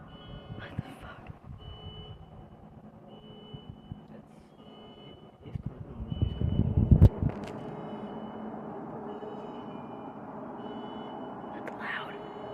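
At night, a car alarm beeps over and over in a faint, regular pattern from a distance, while people talk nearby and a louder rumble swells partway through.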